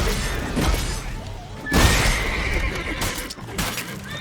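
A horse neighs loudly in The Witcher 3: Blood and Wine during a fight with a bandit, with a crash or smash at the start and combat noise and game music around the whinny.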